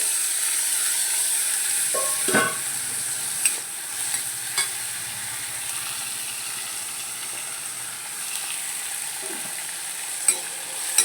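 Chopped onion and green chilli frying in a pan for a Kerala spinach buttermilk curry give a steady soft sizzle, with occasional clinks and scrapes of stirring and no talk.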